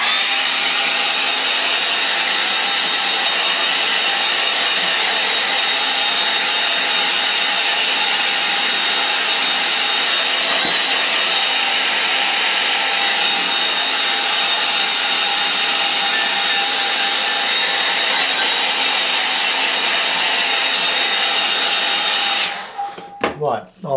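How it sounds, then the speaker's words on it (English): A hair dryer blows in a loud, steady whoosh for a long stretch, then cuts off abruptly at the end. "Right, hair dryer."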